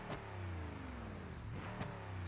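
A Gavril Vertex in BeamNG.drive idles low and steady, then briefly blips its revs twice. The engine is close and fairly quiet.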